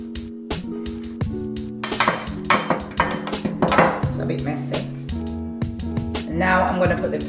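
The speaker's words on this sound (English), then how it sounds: "I'm putting the mix into the baking tray now" A spoon clinks and scrapes against a baking tray while a vegan blueberry and banana breakfast-bar mix is spooned in, giving bursts of close metallic taps and rattles over a steady background hum.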